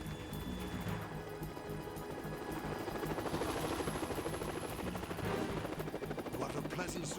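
A helicopter from the Metal Gear Solid 2 video game gives a continuous, loud rotor chop, joined by bursts of gunfire over the steady throb.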